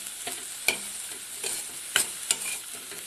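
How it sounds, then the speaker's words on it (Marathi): Onion, capsicum and carrot stir-fried in a pan for veg mayo pasta, a soft steady sizzle broken by several sharp scraping clacks of the spatula against the pan, close and fairly quiet, with no talking. "हे थोडं 1 मिनिट परतून घेऊया आपण"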